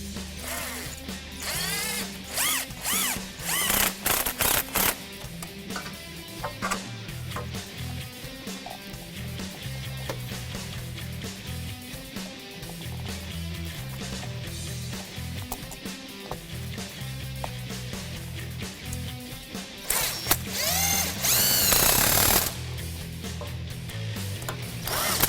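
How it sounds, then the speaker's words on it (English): Ratchet with an 11mm socket tightening intercooler hose clamps on a 2011-2014 Ford F-150 EcoBoost 3.5L, giving rapid, close clicking in repeated bursts against metallic handling noise. "And tighten up the hose clamps with an 11mm socket."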